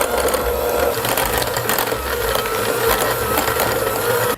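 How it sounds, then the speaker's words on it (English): A small electric hand mixer whirs steadily and loudly in a bowl, creaming cream cheese until smooth, a continuous close-up buzzing drone that cuts off at the end. "I'm going to use a little hand mixer and cream the cheese for a couple of minutes until it's creamy and smooth."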